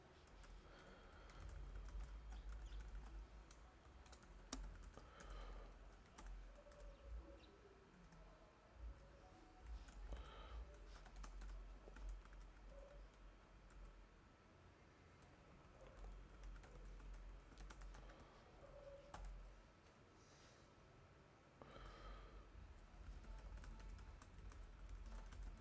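Typing on a computer keyboard in a home room, with a microphone placed close above the keys; steady soft clicking and tapping runs throughout, fairly quiet, with a low background hum and no voices.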